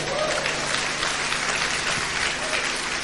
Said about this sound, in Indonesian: Beri tepuk tangan itu buat Tuhan.